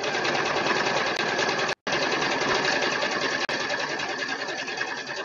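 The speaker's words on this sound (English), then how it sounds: "So I'm stitching on the 1/2 inch guide. Denim." A sewing machine runs denim along a half-inch guide in a loud, close, continuous whirring drive, broken by one brief stop partway through before resuming steadily.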